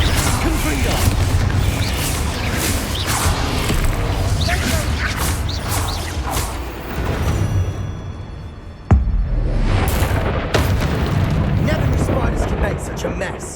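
Blasting spell explosions in the Hogwarts Legacy video game, with a loud sharp bang partway through amid busy combat sounds, rumbles and impacts, and a voice speaking over the action.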